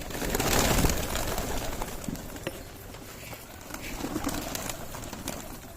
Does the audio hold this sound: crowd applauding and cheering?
no